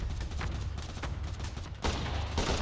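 Rapid gunfire in the Roblox video game, a string of close, loud automatic shots that pauses briefly and then bursts back in heavier, with no talking over it.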